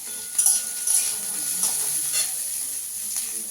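Whole cumin seeds crackle and sizzle in hot oil in a Bengali kitchen, with a steady bright hiss throughout and a few sharper pops near the start, close and alone.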